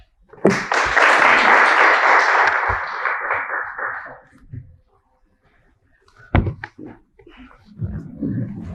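An audience bursts into applause, a loud steady wash of clapping lasting about four seconds before dying away, followed by scattered knocks and shuffling.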